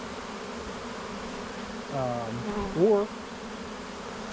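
A honeybee swarm in May, gathered on the ground near a hive box, drones with a steady fanning buzz throughout, while a voice briefly breaks in over it.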